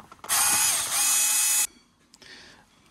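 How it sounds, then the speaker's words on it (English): A screwdriver fitted with a T6 bit turns a screw on a Dyson V12/V15 laser head, a loud, close buzzing ratchet-like whir lasting over a second, then a fainter brief follow-up. "So let's get the T6 in. Just hook on my screwdriver."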